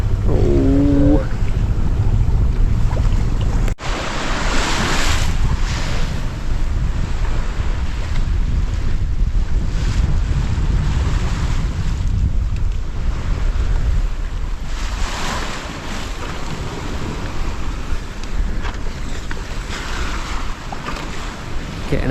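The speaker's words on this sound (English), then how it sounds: "Getting out into the open ocean now, into the swell." Sailboat heading into open ocean swell, continuous wind buffeting the microphone over the rush of waves and hull through water, loud and steady with surging gusts.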